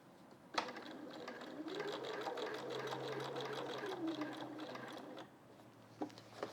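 A domestic sewing machine runs a steady line of quilting stitches, a close, even mechanical whir lasting several seconds, framed by sharp clicks of the needle and presser foot before and after.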